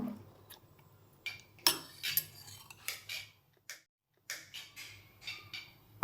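Spoon scraping and clinking against a bowl while jackfruit kuzhi paniyaram batter with chopped coconut is stirred, irregular scrapes and taps up close, with a short pause partway through.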